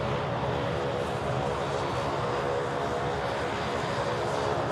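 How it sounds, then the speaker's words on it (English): An Emirates Airbus A380 rolls for takeoff on runway 34 left at Sydney Airport, a loud continuous broadband engine roar that stays steady throughout with no speech. "we've got an Emirates A380 on the roll now, runway 34 left"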